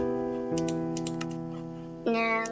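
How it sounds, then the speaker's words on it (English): Computer keyboard keys tapped to type into Minecraft chat, a few quick clicks close up over a steady tonal game background. "Now let's go to chat and type sandstorm."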